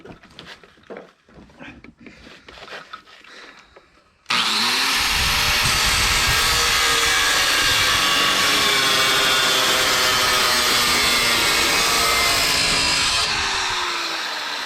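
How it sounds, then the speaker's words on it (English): An angle grinder cuts into metal on a car, starting abruptly after a few seconds of quieter handling noise and then whining loudly and steadily with a shifting high screech for about ten seconds before easing off. "I just kind of let the grinder do the work, and then it's the way it's pointing, so the blade's going down."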